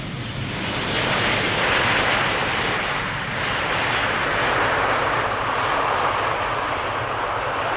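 A passenger airplane lands at Amsterdam Schiphol Airport, its engines giving a loud, steady broadband roar that holds without a break from start to finish.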